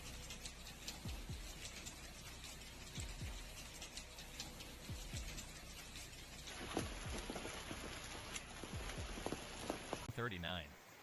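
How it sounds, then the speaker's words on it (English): Heavy hail and rain pelting down during a storm in Caravaca, a dense steady roar of impacts with scattered sharper hits and low rumbles, continuous throughout and ending in a brief abrupt change of sound. "The storm originated in Caravaca and came with hail before moving into Sahigan with a similar intensity"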